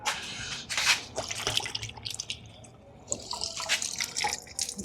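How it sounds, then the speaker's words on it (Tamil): Water running onto a microfiber cloth being wetted for a home car wash, uneven splashing and dripping bursts with brief pauses, close and fairly quiet, with no talk. "முதல்ல இந்த கிளாத்தை வந்து ஈரம் பண்ணிக்கலாம்."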